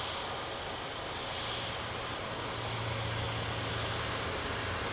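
A fixed-wing airliner at Lisbon Airport roars steadily through its departure, a broad continuous engine rumble that swells slightly louder toward the end, heard from a distance with no voices over it.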